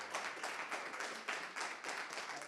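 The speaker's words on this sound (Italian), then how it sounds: "È un applauso quello che accoglie Alberto Stefani" A small group of people clapping to welcome Alberto Stefani, newly elected president of the Veneto region, on a visit with elderly people. The claps are close and moderately loud, with an uneven pulse, and no one speaks.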